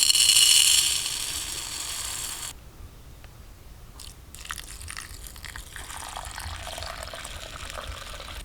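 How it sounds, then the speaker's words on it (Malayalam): Water gushes loudly over urad dal set out to soak. The pour stops after a couple of seconds and leaves quiet, faint rustling and trickling, with no voices. "ആദ്യം നമുക്ക് കുറച്ച് ഉഴുന്ന് വെള്ളത്തിൽ കുതിർത്ത് വയ്ക്കാം"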